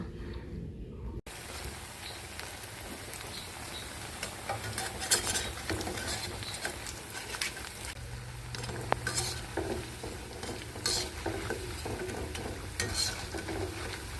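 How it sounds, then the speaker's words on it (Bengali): Potato and gram flour chops fry in a pan with a continuous close sizzle, while a spoon stirs and scrapes against the metal now and then, all without talk. "শুধু হচ্ছে এই আলু দিয়ে বেসন দিয়ে চপগুলো ভাজবো"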